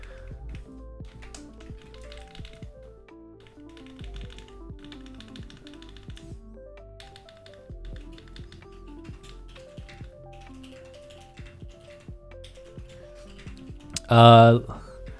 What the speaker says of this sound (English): Now I can hear my wife slam her keyboard.